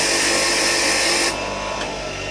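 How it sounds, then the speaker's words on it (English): Burrs being buffed off a freshly cut key on a key-cutting machine: a loud, steady whirring grind for about a second, then the motor keeps running a little quieter as it winds down. "then we would give the key a bit of a buff to take off all those little burrs along the back there"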